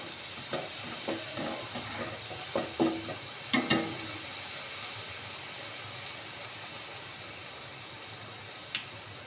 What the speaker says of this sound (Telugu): ఒక టూ స్పూన్స్ వరకు ఆయిల్ వేసుకోవాలి అయితే బాగా ఫ్రై అవ్వాలి